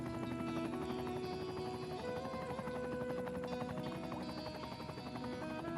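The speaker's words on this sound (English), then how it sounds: "Why are they sending a helicopter?" Steady, dense rotor drone of a helicopter flying in the city-building game Cities: Skylines II, heard loud and continuous over a busy layered game soundscape with no talk.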